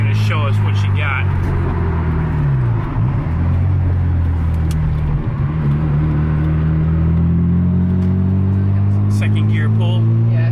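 A car, nicknamed Dusty, accelerates hard onto a main road, its engine droning loud and low and rising in pitch through the gears, while people talk over it inside the cabin.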